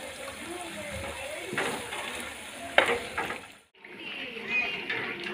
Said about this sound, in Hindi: जी ये जा रहा है लहसुन